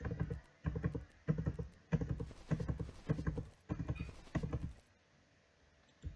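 Hooves clip-clop in the strategy game Age of History II, with about seven evenly spaced bursts of galloping hoofbeats, moderately loud, then a short quiet stretch near the end.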